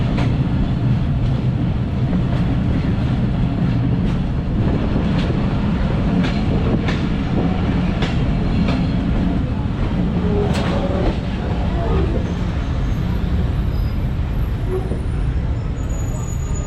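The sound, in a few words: Dhalarchar Express train at Shitlai railway station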